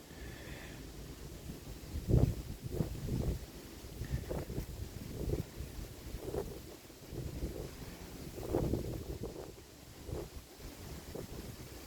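Strong wind buffets the microphone in uneven gusts and rumbles, with no one speaking.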